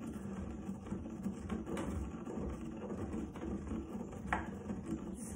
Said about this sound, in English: Take as long as you need with the grinding, guys, okay?